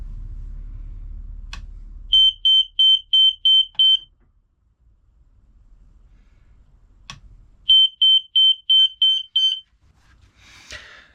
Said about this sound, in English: They're both interconnected smoke alarms.